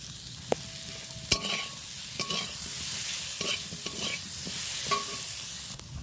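Spiced Bengali fish curry masala, salted and being cooked down, sizzles steadily in a pan while a utensil stirs and taps against the metal in several distinct knocks, close and fairly quiet.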